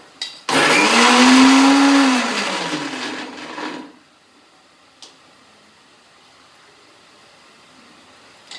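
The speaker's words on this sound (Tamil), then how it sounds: "இதை அரைச்சிக்கலாம்." A mixer grinder grinds a paste in a home kitchen, a loud, close whirring burst of about three seconds that winds down and cuts off, leaving quiet room tone.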